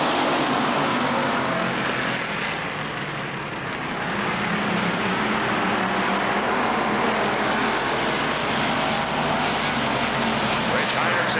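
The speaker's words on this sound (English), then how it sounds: "Lignell, Sugarly, Cromwell, green flag and a racing." Race cars roar around Rockford Speedway in 1996, a loud, continuous blur of engines from a pack of cars racing under green flag, swelling and dipping slightly.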